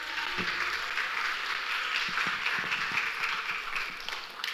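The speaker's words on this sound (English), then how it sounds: "Let's give them one round of applause." An audience at a fundraiser event claps steadily, a broad crackling of many hands heard from within the room, even in level throughout with a few sharper individual claps standing out.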